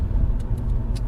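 A big six-cylinder car engine runs steadily while driving, with a continuous low mechanical drone and a few faint high ticks, no voices.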